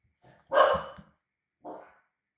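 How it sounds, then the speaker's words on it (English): A pet dog barks indoors: two sharp, close barks, the first louder and with a short growling tail, the second softer after a brief pause. "Apparently my dog had to be bribed with a treat to be quiet right now."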